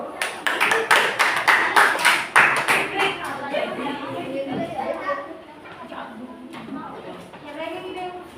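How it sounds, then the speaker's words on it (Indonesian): A classroom group of teachers and children claps for a new group: a burst of brisk, loud applause that fades after a few seconds into scattered taps under ongoing chatter and talking. "beri aplaus untuk kelompok baru dulu"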